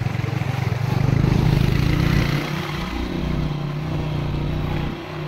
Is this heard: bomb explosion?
no